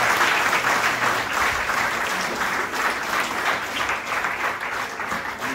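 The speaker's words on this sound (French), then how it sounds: "sous vos applaudissements" An audience claps at the opening ceremony of a student quiz championship, a steady, dense wash of applause from a sizeable crowd sustained throughout without speech.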